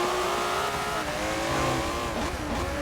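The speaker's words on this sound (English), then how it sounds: "I'm using my Ferrari 330 on the game." Ferrari 330 engine in a racing video game on a Ferrari track in Italy, a steady continuous drone with shifting pitch as the car runs and revs, with faint tire squeal, loud and close throughout without talk.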